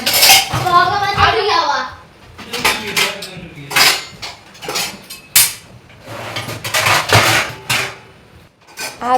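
Dishes and utensils clatter and clink in bursts during home kitchen cleaning, with metallic scrapes and knocks coming close and loud at an irregular pace, and a voice speaks between them.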